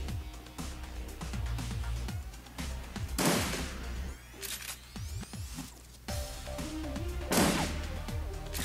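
Gunfire in Shadowrun Returns: several loud, sharp shot bursts crack out in separate clusters over droning game music, each followed by brief decay, with no talking.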